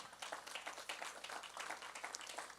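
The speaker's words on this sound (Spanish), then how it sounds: "Dele un aplauso al Señor" A church congregation applauds in praise during a worship service, a steady patter of clapping hands that carries on without a break across the whole moment at a moderate, slightly distant level.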